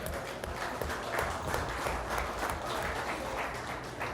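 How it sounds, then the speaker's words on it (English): In a large dairy show arena, an audience claps for youth showmen after an intermediate showmanship class, a faint, distant, steady wash of applause echoing through the hall. "Let's give all these youth a really nice round of applause."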